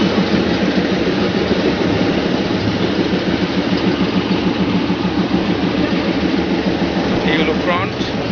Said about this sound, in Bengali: ডিজেল ইঞ্জিন, ছোট ডিজেল ইঞ্জিন।